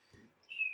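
A lone bird gives a faint, thin chirp late in the moment, quiet and brief against a near-silent background with a soft low murmur.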